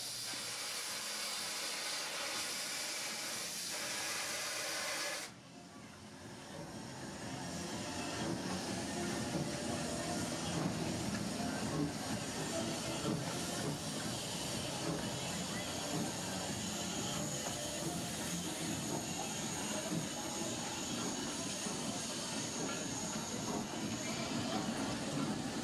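Knott's Berry Farm's 3-foot narrow gauge steam locomotive 340 releases a loud hiss of steam that cuts off abruptly, then a steady, rumbling roll of the train continues close by.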